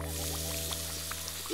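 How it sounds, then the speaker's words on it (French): Water streams steadily to rinse soap bubbles off a dog at bath time, a continuous close rushing pour with a low steady hum beneath it and no talking. "Il est temps de rincer toutes ses bulles."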